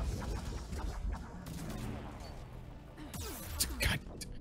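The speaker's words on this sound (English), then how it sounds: "The harvesters are shooting me. The fucking ravagers are shooting me." Enemy gunfire from harvesters and ravagers in the video game Mass Effect 3: dense, rumbling bursts and sharp cracks through a chaotic battle din, with a person talking over the noise.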